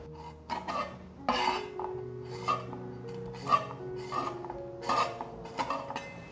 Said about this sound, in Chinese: 把敏豆斜切